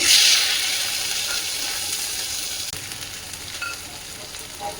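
Ginger hits hot oil with a loud initial hiss that settles into a steady crackling sizzle, close up, with a few faint stirring clicks and no talking.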